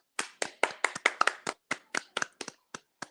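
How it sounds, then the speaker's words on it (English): About fifteen sharp hand claps ring out alone, starting quick and uneven, then slowing and spacing out toward the end, crisp and fairly close with silence between them. "So let's applaud Atlanta."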